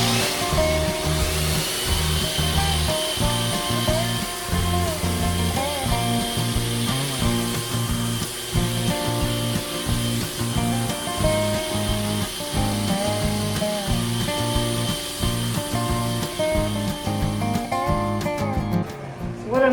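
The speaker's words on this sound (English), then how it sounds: "I'll get this sanded all the way down here and then flip it over" A power sander works across a black walnut table top, a continuous loud motor whine with rhythmic pulsing grind as the pad moves back and forth over the wood, steady for about twenty seconds.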